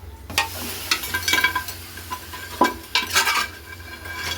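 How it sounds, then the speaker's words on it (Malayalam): Beef is stirred into sizzling masala in a pan for Kerala beef fry, with repeated close scrapes and clinks of a spoon against the metal over a steady frying hiss, and no voices. "ബീഫ് ഇട്ടതിന് ശേഷം നല്ലതായിട്ട് മിക്സ് ചെയ്യുക"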